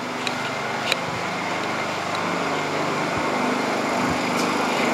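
A Honda 2000 watt inverter generator running after throttling itself down into a protect mode while powering an RV air conditioner, a steady, even engine drone close by with a few faint clicks.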